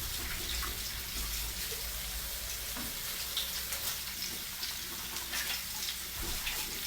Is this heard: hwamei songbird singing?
no